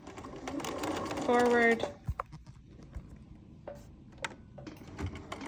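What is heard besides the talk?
sewing machine stitching along cardboard edge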